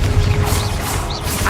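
A loud, dense crash and crackle of a fire spell being cast in the video game Hogwarts Legacy, a brief burst of impact noise filling the moment with clattering mechanical texture.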